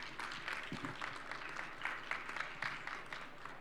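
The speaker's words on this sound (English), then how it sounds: "Let's give a warm round of applause to all the sponsors and organizers who made this" Faint, steady applause from a competition audience thanking sponsors and organizers, a soft continuous patter of many hands that stays even throughout.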